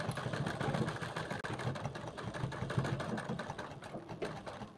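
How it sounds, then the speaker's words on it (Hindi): A sewing machine runs steadily, stitching a seam along the edge of a fabric sleeve with a shortened stitch length. The motor hum is close and continuous, with a brief catch partway through and no talking. "अब हम इसमें किनारे पे इसके सिलाई लगाएंगे।"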